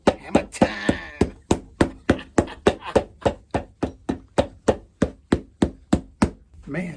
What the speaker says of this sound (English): bouncing off the sole when I'm hammering it